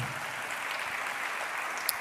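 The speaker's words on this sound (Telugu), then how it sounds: "గట్టిగా చప్పట్లు కొట్టి దేవుని మహిమపరచండి" A church congregation claps loudly and steadily at a Telugu Christian sermon, a dense, continuous wash of hand claps without pause or talk.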